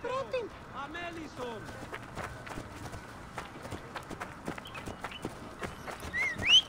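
Horse hooves clatter in a quick, rhythmic gallop in Assassin's Creed Origins, drawing nearer through an open outdoor scene, with scattered crowd voices and chatter around them.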